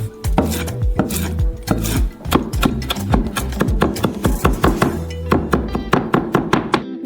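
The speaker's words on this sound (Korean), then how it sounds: "민트를 잘게 썰어서" A knife chops mint finely on a cutting board, a quick run of close, crisp thunks that tightens into a fast, even rhythm toward the end, no talk.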